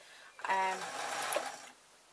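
A domestic sewing machine runs in one short burst, a steady mechanical whirr with a rattling stitch rhythm, stitching a padded dust cover lined with thin 2-ounce hollow fibre wadding; the sound is fairly quiet and close, with no speech.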